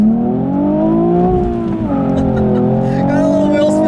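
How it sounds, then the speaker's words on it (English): A manual 2016 Nissan 370Z NISMO accelerates hard with a brief spin of the wheels, its engine note climbing loud and close in a strong rising drone, with a tire-squeal edge near the end. "Got a little wheel spin that time, which is impressive."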